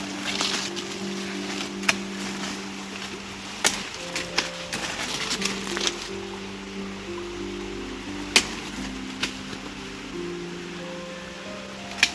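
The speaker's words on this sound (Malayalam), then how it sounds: "ഇതിന് നമ്മൾ ഇവിടെ വെച്ച് കട്ട് ചെയ്യും." A coffee plant stem being cut for grafting, heard as a few sharp, separate snips and clicks spread through a quiet stretch, close by and over faint background hum, with no voices.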